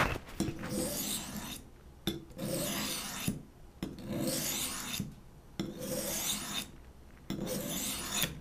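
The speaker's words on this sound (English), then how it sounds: "And it's almost like you can hear the metal coming off it." A metal blade drawn across a dry sharpening stone, five long, even rasping strokes separated by short pauses, steady rhythm, close and fairly quiet with no talking.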